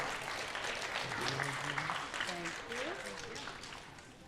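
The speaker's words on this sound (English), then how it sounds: "please give Miss Adams' class a big round of applause." Audience applause at a fifth grade graduation ceremony, a steady wash of clapping that swells and holds, with faint voices and a few shouts mixed into the crowd.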